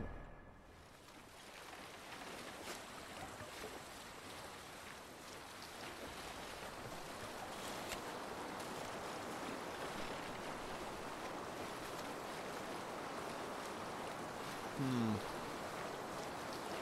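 A sailing ship crosses open sea in Assassin's Creed Valhalla, a steady wash of waves and wind rolling on without a break, with a brief faint tonal blip near the end.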